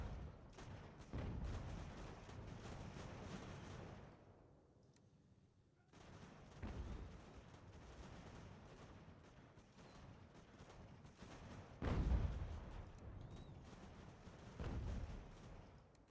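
Artillery and musket fire on a battlefield in Ultimate General: American Revolution, a series of distant booms and rumbling volleys rising and fading, with a heavier thud near the end and a lull in between.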